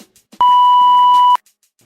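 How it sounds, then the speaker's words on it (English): A single steady electronic beep, loud and clean, holding for about a second before cutting off, with near silence around it. "leave your question at the sound of the beep"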